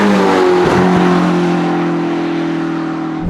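A Ferrari 4.3-litre naturally aspirated V8 sounds loud and close from an open-top car, a strong continuous engine drone that holds nearly steady throughout with only a slight shift in pitch.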